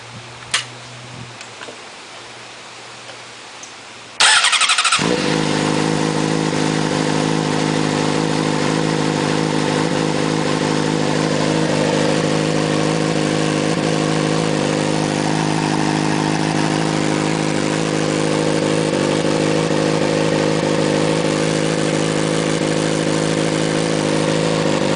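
A Honda 600RR motorcycle with a GP slash pipe exhaust cold starts after a quiet moment, its engine catching abruptly and then settling into a loud, steady idle that runs on to the end.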